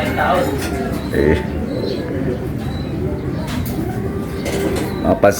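Pigeons coo softly in low, repeated calls close by while people talk over them.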